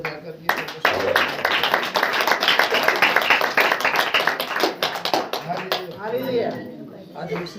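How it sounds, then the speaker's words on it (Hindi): A church congregation at a Saturday prayer meeting claps hands steadily for several seconds, a dense patter of many palms that fades near the end as a voice speaks. "ताली बजा कर"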